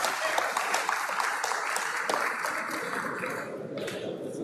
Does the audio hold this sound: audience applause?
yes